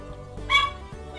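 A pet dog gives a single short, high yip or bark, brief and moderately loud against a low steady background hum, with no talking.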